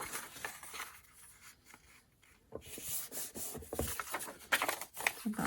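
Paper for a junk journal is folded and creased by hand, soft rubbing and scraping strokes up close with a brief quiet pause in the middle, then denser rustling toward the end.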